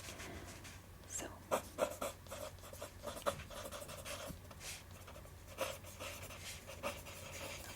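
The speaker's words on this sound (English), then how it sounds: "let me write that down" A pen scratching on paper during a quiet therapy session, soft intermittent strokes with a few sharper taps, faint and close, and no speech over it.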